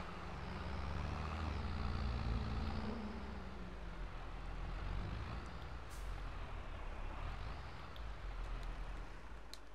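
Deutz Agrostar 4.61-4.71 series tractor driving in Farming Simulator 22, a steady low engine rumble with faint shifts in pitch, continuous and moderately quiet throughout.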